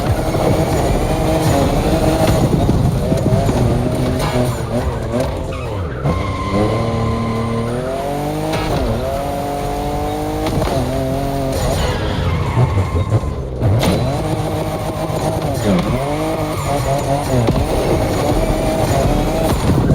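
A fifth-generation Toyota Supra driven in the racing game The Crew Motorfest, its engine loud and continuous with rising and falling revs through gear changes, tire squeal mixed in, and no one talking.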